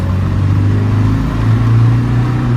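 A 1998 Land Rover Defender 110 with the 300Tdi diesel engine driving on a road, a loud steady engine drone with road and cabin noise heard from inside, no talking.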